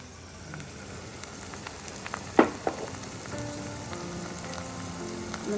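Onions and fenugreek leaves frying in oil for Telangana masala chicken fry, a steady soft sizzle with a couple of brief pops near the middle, no talking.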